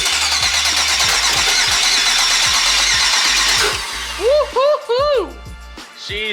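An LS-swapped V8 in a New Edge Mustang cranks with a rapid rhythmic starter chug for several seconds, then catches and runs roughly with a few loud revving bursts as a voice whoops over it.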